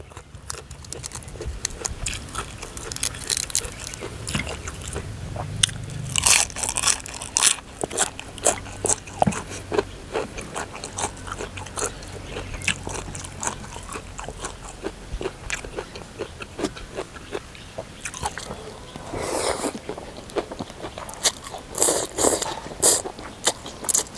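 Grilled chilies bitten and crunched while eating a giant bowl of stewed beef noodle soup, with a steady stream of close, sharp crunching and chewing sounds over about twenty seconds and no talking.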